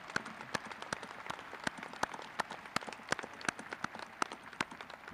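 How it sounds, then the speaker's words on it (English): Sparse, scattered clapping from a commencement audience honoring new doctoral graduates, individual claps spaced apart and fairly faint rather than a full ovation. "have a big round of applause for them."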